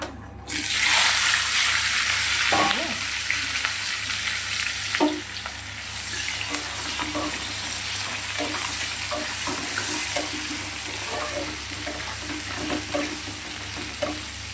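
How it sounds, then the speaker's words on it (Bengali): Onion and tomato pieces frying with whole dried red chillies and spices, a steady loud sizzle broken by sharp crackles and pops and occasional stirring scrapes, close by with no talking. "এখানে পেঁয়াজ আর টমেটো কুচিটা দিয়ে দিচ্ছি, ওই দেখো দেখেছো ফাটছে।"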